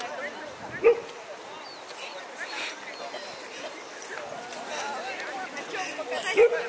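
Huskies at a dog sport demonstration give two sharp, separate barks, one early and one near the end, against murmuring crowd noise and people talking.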